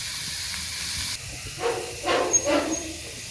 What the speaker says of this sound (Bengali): এখন নুন হলুদ দিয়ে ভাজা ভাজা করি।